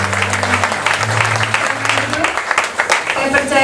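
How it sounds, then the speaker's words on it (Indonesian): A church congregation claps and cheers together, steady dense applause filling the hall while a voice speaks over it through a sound system. "Sekali lagi kita berikan sorak-sorai."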